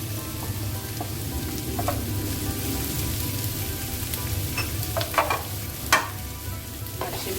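Capsicum tossed into a hot pan for chicken vegetable fried rice, a steady sizzle of frying with scattered scraping stir strokes and utensil clinks toward the end, close and alone without voices.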